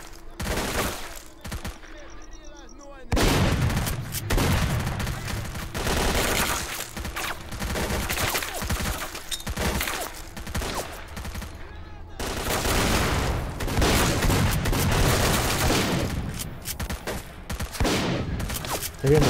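Dense gunfire in a S.T.A.L.K.E.R. Clear Sky firefight, with bursts of automatic fire and repeated loud shots packed close together for the whole stretch, plus a short quieter lull near the start and a voice now and then beneath.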